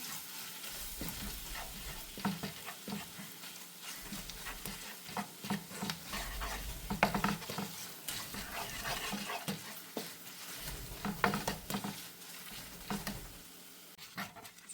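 Soya chunk pickle masala sizzling in a frying pan while a spoon stirs it, steady close frying crackle broken by irregular scraping strokes, with no voices.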